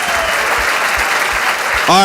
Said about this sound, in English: Let's give him a round of applause, y'all.